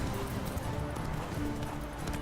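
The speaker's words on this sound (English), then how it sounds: "Yes, Fui, driving a horse" Horse hooves gallop in The Witcher 3, a quiet, rapid clip-clop under soft ambient game sound.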